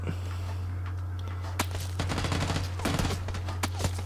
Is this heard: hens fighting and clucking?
no